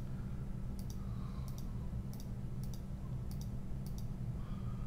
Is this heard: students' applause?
no